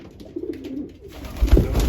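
Soft, low coos from male racing pigeons repeat close by, with a brief rustle and a faint scrape of movement toward the end.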